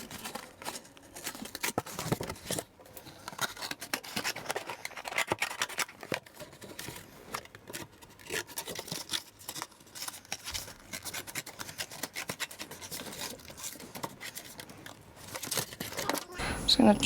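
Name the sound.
scissors cutting a piece of cardboard box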